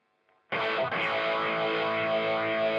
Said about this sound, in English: the Echoplex, plate reverb, and the phase, which Chris can hopefully show us